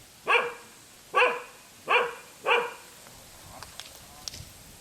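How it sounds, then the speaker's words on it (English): A dog barks four times in a steady rhythm, fairly close and loud, followed by quieter background rustling. "After chasing away the barking dogs"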